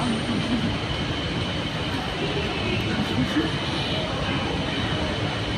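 Steady rumble and hiss of a BTS Skytrain carriage riding through Bangkok, continuous rolling noise with faint wheel whine, a few soft voices nearby.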